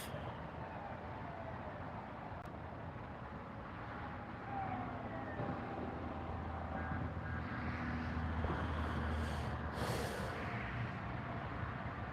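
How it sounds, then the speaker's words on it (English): A siren wails faintly in the distance, its tone sliding up and down over a background of traffic noise. "I hear police going sirens."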